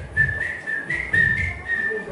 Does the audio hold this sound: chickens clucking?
no